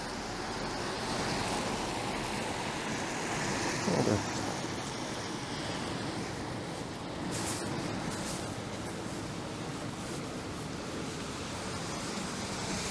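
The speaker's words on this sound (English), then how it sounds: "There's the Burke Brook we're walking over." Burke Brook flowing through a ravine in Toronto on a snowy day, a steady broadband rush of running water heard continuously from nearby, with a faint brief whoosh partway through.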